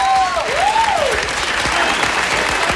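Applause for a singer on a live radio show studio, a loud, dense burst of clapping sustained throughout with faint voices and a tone sweep over the start.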